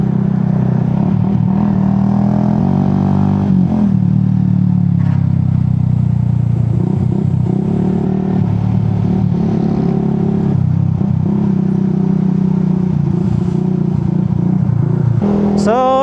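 A motorcycle engine hums steadily throughout, close and loud, with shifting revs as it rides along a road near Lucban, Quezon, Philippines, and a brief rising whine near the end.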